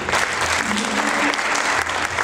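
An audience at a world-rhythms concert applauds steadily through the whole stretch, dense and fairly close, with a voice faintly underneath.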